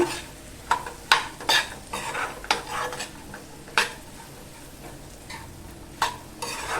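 Tondli (ivy gourd) sabji stirred in a pan, a spoon scraping and clinking against the metal in irregular strokes over a faint sizzle, close up with no talking.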